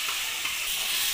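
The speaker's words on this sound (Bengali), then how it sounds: "নারকেল কুড়াটা দিয়ে আমি ভালো করে নাড়িয়ে নেব" Grated coconut and ground pointed gourd seed paste are stirred in a kadai, giving a soft, even hiss of frying with faint scraping, close and continuous.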